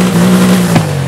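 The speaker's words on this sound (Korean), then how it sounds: "일단 시동부터 한번 켜볼게요." An engine with an aftermarket exhaust settles into a steady, loud idle drone from close by, with a slight blip near the end.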